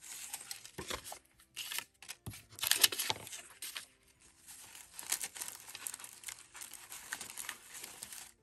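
Wrapping paper is crinkled and handled up close in bursts of crackling rustle, with short pauses between the handling movements.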